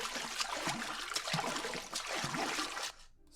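Water splash sound effect: a dense, bright rush of splashing and sloshing water with several surges, cutting off abruptly near the end.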